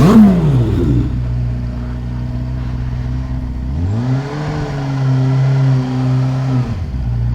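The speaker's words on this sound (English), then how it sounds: "Give us a rev. Come on, a big one." A Kawasaki Ninja H2 motorcycle engine idles with a low rumble, then revs up sharply midway and holds a higher, steady drone for a few seconds before dropping off.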